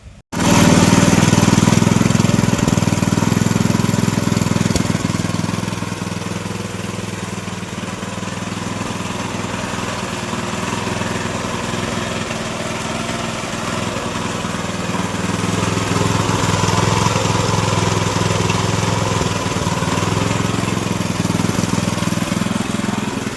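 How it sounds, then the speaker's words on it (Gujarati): A mini tractor cutter's engine starts abruptly and runs loud and close in a steady droning roar, easing slightly then holding its pace throughout with no voices. "આપણું કટર ચાલુ થઈ ગયું છે"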